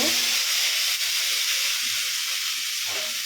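Half-cooked masala with pointed gourd fries in a pan, giving a loud, continuous broadband sizzle and hiss close by, with faint stirring scrapes underneath.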